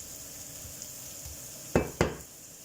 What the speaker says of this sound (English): Get them juices out of that chorizo.